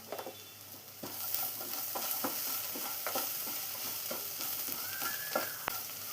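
Golden-brown onions with turmeric powder sizzle steadily in a pan for paneer mushroom masala, with a spoon stirring in regular scraping strokes over the constant frying hiss and a sharp clink near the end.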